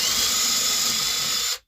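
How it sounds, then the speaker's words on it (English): A power drill whines steadily at high pitch for over a second while drilling out a corner, then stops abruptly into silence. "Get that drilled out."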